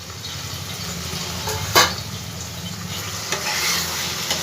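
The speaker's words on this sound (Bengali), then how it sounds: "এবার এর মধ্যে আমি ভেজে রাখা পটলগুলো সব দিয়ে দেবো।" Fried pointed gourd pieces tipped into a pan of poppy seed paste and stirred, giving a low continuous sizzle with scraping stir strokes and one sharp clatter partway through, close and moderately loud.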